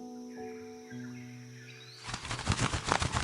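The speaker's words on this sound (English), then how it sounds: "a bird swoops in and lands on a nearby branch" A bird swoops in and lands on a nearby branch: a sudden burst of flapping wings and rustling fills the second half, loud and close, after a quiet stretch of steady tones.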